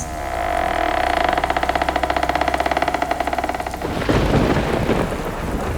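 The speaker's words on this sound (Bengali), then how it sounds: "বাইরে ঝড়ের গতি আরো উদ্দাম" A stormy roar of rain and wind, starting with a rhythmic pulsing rumble and then bursting into a loud, rushing gust of rain.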